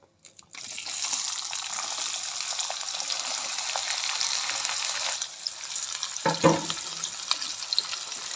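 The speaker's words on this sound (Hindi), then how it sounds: "अब ये लाल होने तक, इसको अच्छा से लाल होने तक प्याज इसको फ्राई करेंगे।" Onions frying in a pan for an Odia-style mutton curry: a steady, loud broadband sizzle for about five seconds, then a softer hiss with a brief clatter of stirring near the end, no voices.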